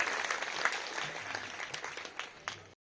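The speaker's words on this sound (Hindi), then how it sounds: "मैं चाहता हूं आप तालियों से बजाकर मेरे शब्दों की पूर्ति करते" Audience applause at an honour ceremony, a brief burst of many hands clapping together, close and fairly quiet, fading out abruptly after about three seconds.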